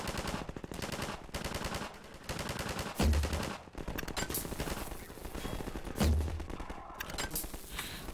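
Rapid automatic gunfire in Half-Life 2, delivered in loud repeated bursts with heavier booming shots landing about three seconds apart.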